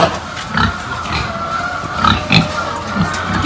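Pig oinking and grunting in short repeated bursts close by on a backyard pig farm, with several louder snorts standing out over a steady background hum.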